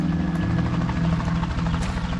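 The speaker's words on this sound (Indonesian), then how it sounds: "Oh, helikopter." A helicopter in the video game A Quiet Place: The Road Ahead thrums steadily with a loud, pulsing rotor chop and engine buzz that continues unbroken from start to finish.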